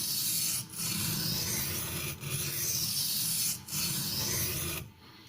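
Steady abrasive rubbing of a Ganzo G704 440C steel knife on a fresh Norton India medium stone, light strokes with brief pauses between them, close and alone.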